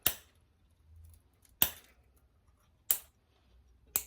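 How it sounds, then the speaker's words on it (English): Sharp metallic snips as excess electric guitar string ends are cut off, four crisp clicks spaced roughly a second apart, close and distinct against near silence. "what I like to do is cut these right about here"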